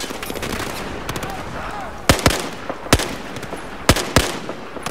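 Sharp rifle shots crack out in Battlefield 4 gameplay, a sparse scatter of single reports with two closer, louder pairs standing out over a steady low din of battle.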